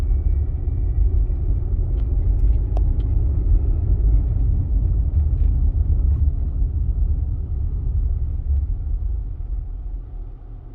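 A car with an intermittent ABS fault drives along the road, a steady low rumble of engine and tyres that holds level and then eases off slightly toward the end as it slows; no talking.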